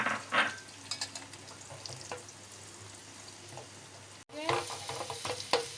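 Garlic, chillies and cumin sizzle and crackle steadily in hot oil for an aloo palak tempering, with a few light clinks of stirring and a brief pause.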